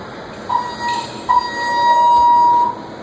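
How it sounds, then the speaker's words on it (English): An elevator alarm bell ringing inside the cab of a ThyssenKrupp Signa4 hydraulic elevator at a recreation center: a steady electric buzzing ring with brief tonal chimes, loud and close, sounding for a couple of seconds. "Let's ring the bell real quick."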